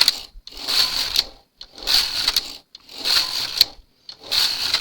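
A Singer knitting machine with ribber knits 1 x 1 ribbing as the carriage is pushed back and forth, making four loud rhythmic passes of whirring, clattering needle noise separated by brief pauses, close and clear with no talking.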